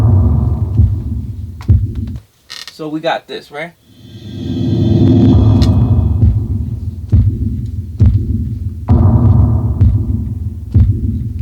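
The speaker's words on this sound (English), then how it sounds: "I just put a regular kick, but I took off the high ends and left the bottom ends in" Deep, boomy kick drum with the highs rolled off and a touch of reverb, thumping in a steady beat at roughly one-second intervals under a person talking, with a brief swooshing break in the middle.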